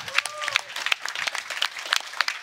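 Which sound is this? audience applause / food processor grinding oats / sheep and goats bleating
audience applause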